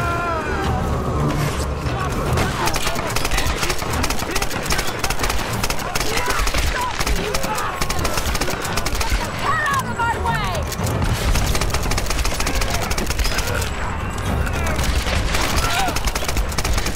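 Sustained bursts of rapid automatic gunfire and scattered shots fill a Tomb Raider video game battle, loud and dense throughout with booms and clatter mixed in, while voices speak beneath the shooting.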